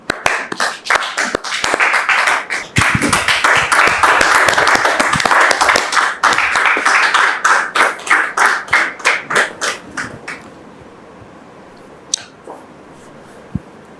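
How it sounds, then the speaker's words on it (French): Studio audience clapping to welcome a guest onto a French-language talk show set, loud close rhythmic claps that build into dense applause, then thin into scattered claps and die away near ten seconds, followed by near silence. "Recevons maintenant notre premier visiteur pour entendre son histoire et nous le recevons sous vos applaudissements"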